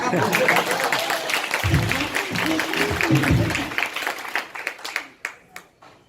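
An audience claps through a stand-up comedy show in Jammu, a dense burst of applause that thins out into a few scattered final claps near the end.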